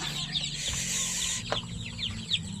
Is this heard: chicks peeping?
yes